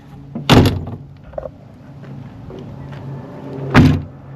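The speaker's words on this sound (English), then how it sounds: "Go ahead and get a shot of the door closing." A Toyota Land Cruiser 70 Series door slams shut with a solid thunk, followed by a quieter knock and a second firm slam a few seconds later.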